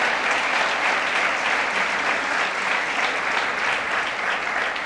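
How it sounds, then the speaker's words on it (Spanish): A church congregation claps together in sustained, dense applause, a steady wash of many hands at even loudness throughout, filling the room without talk over it. "Pueden darle un aplauso con todo el corazón."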